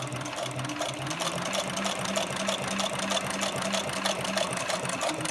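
A SEWPRO 441-PRO sewing machine runs steadily through Biothane, giving a continuous rapid mechanical hum and rhythmic needle clatter, fairly quiet and with no one talking.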